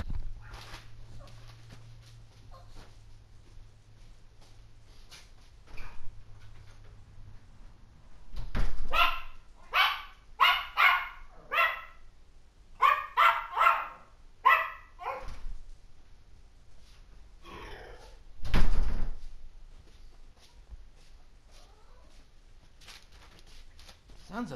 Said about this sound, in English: God, I hate when dogs do that. They bark at nothing.